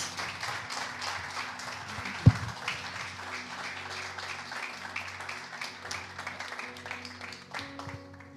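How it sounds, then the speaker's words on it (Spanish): A church congregation applauds for God at the close of a prayer in a Spanish-language service, a steady moderate wash of clapping that runs for several seconds, with one sharp louder thump near the start. "Dele un fuerte aplauso a nuestro Dios"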